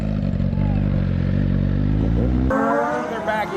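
Motorcycles revving while riders do wheelies eastbound down an interstate highway give a steady, loud droning engine note that cuts abruptly to a higher, thinner whine.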